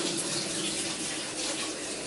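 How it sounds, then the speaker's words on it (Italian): Hands are washed under a running tap in a home kitchen while Sicilian scacciate and bread are being prepared for a stone oven; a steady, close hiss of flowing water runs throughout without pause. "Un attimino che mi lavo le mani."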